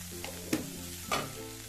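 Squid masala with onion and turmeric stirred in a pan, with a faint steady sizzle and two soft scraping strokes of the spoon.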